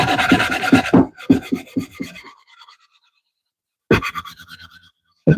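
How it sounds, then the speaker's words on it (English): Willow wood edges sanded by hand with sandpaper: quick rhythmic rasping strokes close by, then a pause and another short burst of rubbing. "sand these edges to a higher grit. I've just been doing 80."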